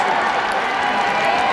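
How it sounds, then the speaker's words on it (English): Dense, loud applause from an arena audience at a Rock & Roll Hall of Fame induction ceremony, a continuous wash of clapping and crowd noise. "you're going to start applauding"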